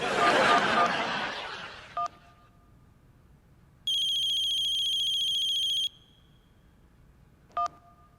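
A telephone ringtone plays on a call, a sustained bright electronic tone lasting about two seconds, framed by short beeps before and after and a brief burst of voices at the start.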